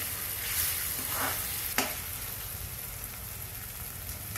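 Tomatoes frying with reddened onions for pav bhaji give a loud, close sizzle, with stirring scrapes and a sharp clack of the spoon against the pan partway through.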